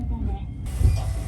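A Sapporo streetcar runs along the Ichijo line after leaving Nishi 15-chome stop, with a steady low rumble and a bump near the end while a voice talks over it.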